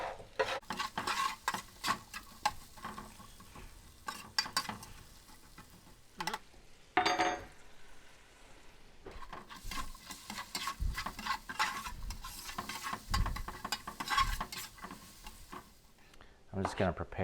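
Ingredients stirred in a pan as they slow cook and caramelize for a steak paella, with scraping utensil strokes and a soft sizzle, up close and fairly steady.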